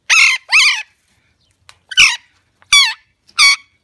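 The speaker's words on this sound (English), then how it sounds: "I'm coming outside because my bird is screaming." A Greater Patagonian conure screams outdoors in five loud, harsh calls. Two come close together, then three more are spaced apart, with silence in between.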